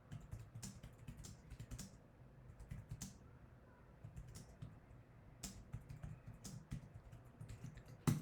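Quiet, steady typing on a computer keyboard while writing Swift code for an iOS app: a continuous patter of light keystrokes with small pauses, close and soft.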